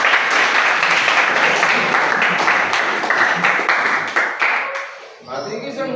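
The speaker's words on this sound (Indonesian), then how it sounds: "Kita tepuk tangan tuh." A room full of people applauds at the close of a student group presentation, dense steady clapping that thins out and fades near the end.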